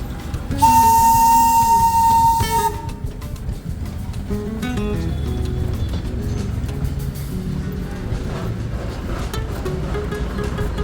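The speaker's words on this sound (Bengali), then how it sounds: "আওয়াজ ছেড়ে একটা heritage steam engine toy train ঢুকছে দার্জিলিং স্টেশনে।" A heritage steam-engine toy train sounds a long, loud whistle as it enters Darjeeling station, then a steady rumble of the train and surrounding station noise follows.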